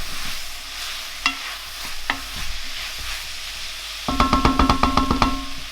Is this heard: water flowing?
no